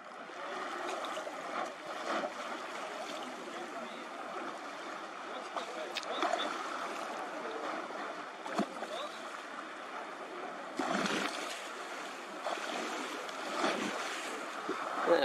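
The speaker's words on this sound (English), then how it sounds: "I can't get any lower because the splash will go right in the camera" Water splashing and waves washing in right at the water's edge, close and steady over wind noise, with a stronger surge of splashes near the end.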